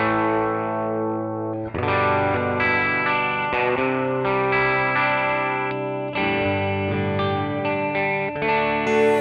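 Electric guitar plays through a NUX Cerberus preamp with cabinet simulation, a run of loud, overdriven chords and sustained notes over about nine seconds.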